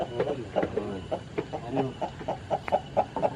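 Chickens cluck in a village coop, a steady run of short, close clucks and soft calls with faint background noise.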